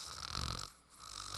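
A person imitating a subtle snore, a raspy nasal inhale-exhale rumble heard close up, rising, pausing briefly, then resuming.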